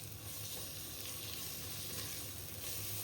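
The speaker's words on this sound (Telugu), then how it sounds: "ఇంకా అల్లం వెల్లుల్లి పేస్ట్ కూడాను పచ్చి వాసన పోయినంత వరకు ఫ్రై అవనివ్వాలి." Ginger garlic paste fries with onions in a pot, making a soft, continuous sizzle at low volume that stays steady for a few seconds with no voices.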